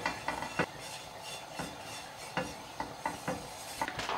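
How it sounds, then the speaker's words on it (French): A pastry brush spreads a little oil across a frying pan over a medium gas flame, making soft, repeated brushing and scraping strokes with light clinks against the pan, quiet and close, with no voices. "J'ai mis ici un petit peu d'huile, je vais l'étaler au pinceau."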